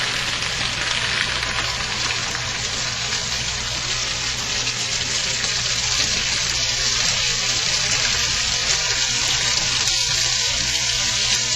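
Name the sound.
cheese and spaghetti sizzling in a frying pan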